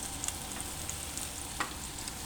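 Meatballs frying in a pan on a stovetop, a steady, even sizzle with faint crackles and an occasional soft pop, heard close and alone without voices.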